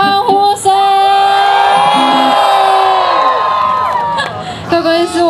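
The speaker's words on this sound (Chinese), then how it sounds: "最后一首歌，怎么没有欢呼声？" A concert crowd at a Taichung rock show roars and whoops in a sustained wave of cheering for several seconds, loud and dense, with shouted voices rising above before it fades out.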